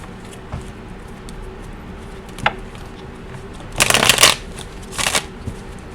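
Tarot cards are shuffled at close range, starting with a few soft riffles and slides and building to two loud, crisp bursts of cascading cards near the end, with no talking.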